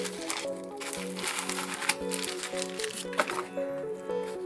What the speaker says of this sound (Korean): 비닐을 벗기고 나면 플라스틱 커버가 있고요